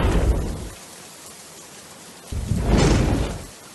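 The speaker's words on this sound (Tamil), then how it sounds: "மோட்டார் போட்டா மழை பெய்யும்." Artificial rain from motor-driven sprinklers spraying water over a house roof near a hillside home, heard as two loud bursts of broadband hissing spray separated by a quieter gap, with no voices.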